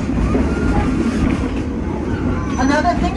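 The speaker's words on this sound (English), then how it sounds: "it's the oldest locomotive that runs on a regular schedule in the entire country" An 1873 Torch Lake steam tank locomotive pulls a train of passenger cars, with a continuous rumbling roll and rhythmic rail clatter that stays loud and close throughout.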